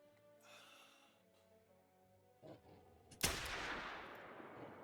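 A single rifle shot fired at a bobcat at about 100 yards, a sharp loud crack after a quiet stretch, followed by a long decaying rumble of echo.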